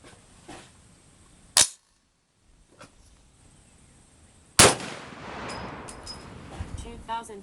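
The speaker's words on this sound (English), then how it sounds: "we're going to shoot 2 more and see if it'll feed both of them" Two loud, sharp rifle shots from a 450 Bushmaster ring out a few seconds apart and are followed by some handling noise, with a voice faintly underneath.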